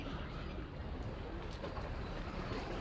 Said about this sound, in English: there's got to be at least 750 birds out here right now.